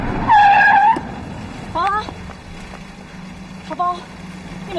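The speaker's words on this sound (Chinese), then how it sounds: "快刹车！" A car brakes hard and its tires let out a sharp, loud squeal that cuts off after about a second, followed by fainter scraping chirps and a low rumble.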